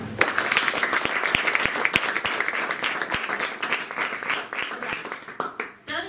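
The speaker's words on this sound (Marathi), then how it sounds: "खाली हात घ्या आणि स्वतःसाठी टाळ्या वाजवा." An audience at a Rajyoga meditation session for blind participants claps for themselves, loud scattered hand claps that thin out and fade toward the end.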